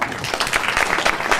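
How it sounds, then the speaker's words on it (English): An audience claps steadily for a speaker being welcomed on stage, a dense wash of many hands close and loud throughout the short stretch with no talk over it. "A round of applause for Amir, thank you."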